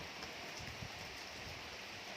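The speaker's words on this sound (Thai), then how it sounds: "ฝนตกแดด" Rain falling in a sunshower over rural ground in Thailand: dense, steady patter of drops on surfaces, even and continuous, moderately close with no voices.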